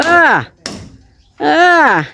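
A single sharp hammer strike lands on a nail in a bathroom roof, falling in a short pause between stretches of someone talking close by.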